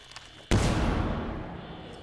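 A sudden loud gunshot blast in a video game erupts after a moment of near quiet, followed by a long rumbling decay that fades slowly.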